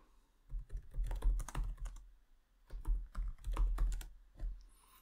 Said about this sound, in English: Now we have to enter that passphrase so it can unlock it.